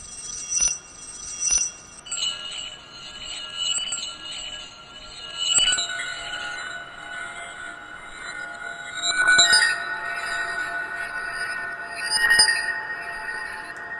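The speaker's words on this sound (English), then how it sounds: "that's the sound that I've created for my jingle bell instrument" A jingle bell instrument built from modified sound samples rings out in a series of bright, glassy strikes, each leaving sustained shimmering tones that overlap and build, with no talking.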